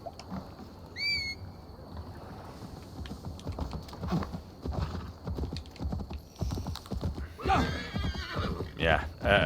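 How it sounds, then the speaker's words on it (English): Horse sounds in Assassin's Creed Valhalla at a dock: a sharp whinny early, then hoof clip-clop and game ambience, with someone talking intermittently over them. "And I will make the rest of the way by horse."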